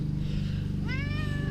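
A pet cat gives one clear rising meow near the end, close and distinct over a constant low engine-like hum in a garage with a Nissan S13.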